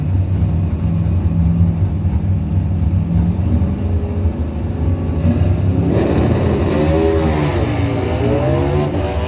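A 2006 Harley-Davidson V-Rod motorcycle and a truck drag racing at a bracket points event, with a loud, sustained engine roar and rising revs as the vehicles accelerate down the strip.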